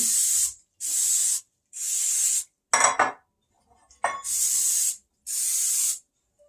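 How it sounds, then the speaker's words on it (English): Five short hissing bursts of cooking spray onto baking tins, evenly spaced, with a metallic clatter of pans being handled between them. "Make sure you spray each pan, each tin."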